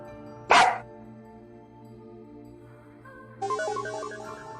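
A dog in the video game NieR Replicant gives a single loud, sharp bark near the start, followed by quiet game ambience and then a bright chiming tone.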